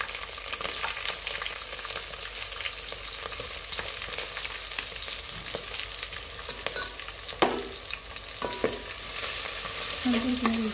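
Whole spices, cumin seeds, green chillies and bay leaf sauté in a pan for a paneer veg biryani, with a steady close sizzle and occasional stirring scrapes throughout.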